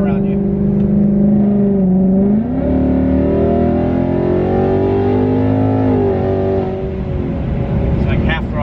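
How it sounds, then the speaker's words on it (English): Supercharged Ford Mustang GT with an ESS G3X supercharger and aftermarket blow-off valve pulling at part throttle with the windows down, a loud continuous engine drone rising and falling in pitch, with a hissing release near the end. "You can hear the tile blow off every time."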